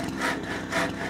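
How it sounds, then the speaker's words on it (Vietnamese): A small hand saw rasps back and forth through wood in two close, rhythmic strokes, loud and up front with no talking. "anh em là còn phải cưa như thế này thì mới đục"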